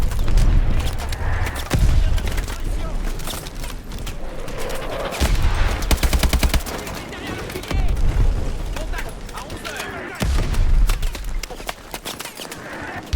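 Mobile turret gunfire in Call of Duty: Advanced Warfare comes as loud bursts of rapid shots and heavy booms, with battle noise and game voices speaking throughout.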